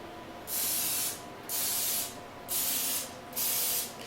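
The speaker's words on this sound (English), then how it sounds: "Spraying it with a little bit of olive oil spray" Four short bursts of olive oil cooking spray hiss evenly, about a second apart, close and clear with quiet gaps between.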